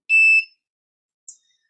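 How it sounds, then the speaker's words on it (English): A wheelchair blind spot sensor gives a short electronic alert: one clear high beep followed by a quieter brief chirp a moment later, heard alone in otherwise silent surroundings. "the system starts beeping"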